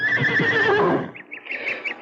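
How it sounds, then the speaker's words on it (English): Horses neigh in a radio drama, a loud whinny followed by a quick series of clip-clopping hooves close by. "Stop the horses."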